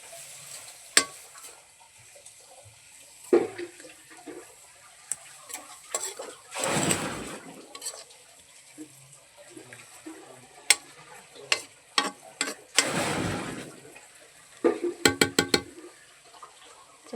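Milk pours into sugar in a pan for halwa, a couple of longer liquid rushes standing out among quieter scrapes, knocks and quick clinks of stirring, close and moderately loud.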